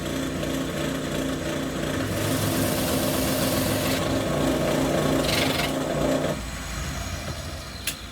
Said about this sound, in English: I've got it clamped so it shouldn't move as I drill the hole.